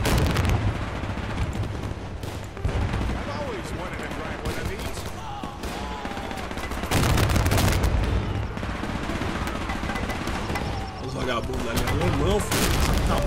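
Gunfire in the World War II strategy game Men of War II, dense bursts of shots and booming blasts filling the whole stretch, with a voice talking over the battle noise.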